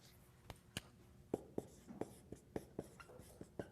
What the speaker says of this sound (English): Let me write this term down.